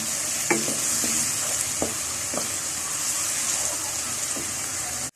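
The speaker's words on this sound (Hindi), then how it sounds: "प्याज के साथ इसमें 1 खाने का चम्मच अदरक लहसुन का पेस्ट डाल लेते हैं। ब्राउन होने तक फ्राई कर लूंगी।" Onions frying in a pan with a spoonful of ginger garlic paste for a besan masala bhindi dish, giving a steady close sizzle with a few soft stirring scrapes and no talk.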